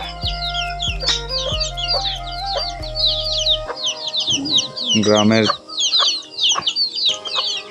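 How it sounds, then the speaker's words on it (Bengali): Chickens cluck loudly and near in a village yard, with busy overlapping calls throughout. A low droning tone fills the first half, and a person talks partway through. "আমার দিদির অনেক মুরগিগুলাও আছে, আমরা দেখতে পাচ্ছি"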